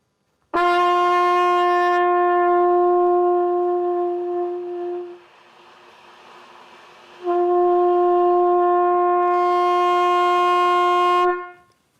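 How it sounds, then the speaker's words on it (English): A trumpet holds one steady soft whisper-tone note, rich in harmonics, that thins to a faint breathy hiss and then swells back to full tone before cutting off cleanly. "play the note and then back off till it's all the way disappears and brings it back"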